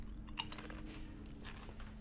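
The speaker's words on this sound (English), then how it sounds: "He got like so much crunching going on in his mic too." Someone chews crunchy food close to a microphone, giving a string of crisp, uneven crunches and bites over a low steady hum, with no speech.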